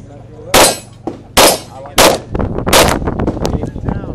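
Four loud, sharp gunshots from a 10mm Glock 20 pistol, fired at uneven intervals over a few seconds, each a broadband crack with a short echoing tail and faint noise between shots.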